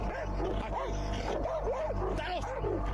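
A dog yips and barks repeatedly in short, whining bursts, fairly close, over a constant low hum, while someone speaks through much of it.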